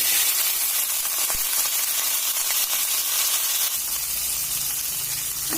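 Brinjal and jeera frying in hot oil in a pan give a steady, bright, close sizzle that continues throughout, with a brief stir or clink partway through.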